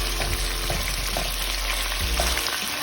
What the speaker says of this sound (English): once you see it start bubbling up and it's changing color, make sure you turn your heat down